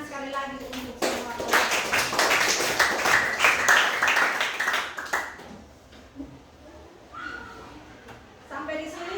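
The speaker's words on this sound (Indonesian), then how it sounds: "kita tepuk tangan sekali lagi untuk semua" Classroom audience claps together for several seconds, a dense burst of many hands that fades as a teacher's voice returns.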